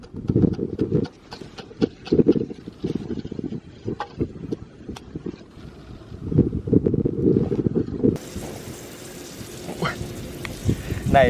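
Gusty wind buffets the microphone beside a campfire in a forest where beef is being roasted, roaring in uneven surges with sharp crackles and knocks mixed in.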